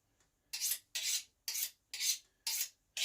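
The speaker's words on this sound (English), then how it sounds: "I gotta sharpen it a little. I like using a steel." A knife blade is drawn along a honing steel in six or seven rhythmic rasping strokes, each about a quarter second long and evenly spaced, close and crisp in a quiet room with no talk, while a muskrat is being skinned.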